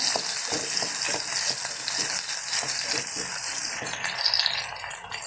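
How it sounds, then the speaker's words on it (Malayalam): Chopped green chillies frying in hot oil in a pan while a pickle is made from banana stem, giving a loud, continuous crackling sizzle with rattling, spattering pops throughout. "ഇതിലേക്ക് പച്ചമുളക് അരിഞ്ഞത് ഇടുകയാണ്."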